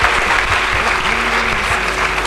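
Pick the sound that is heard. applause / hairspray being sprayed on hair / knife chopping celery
applause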